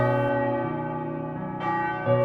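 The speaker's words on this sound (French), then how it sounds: "les cloches rythmaient les heures de l'activité humaine" Church bells of a church in the diocese of Tournai ring with long, resonant overlapping tones, a new strike sounding twice as the earlier ones hum on.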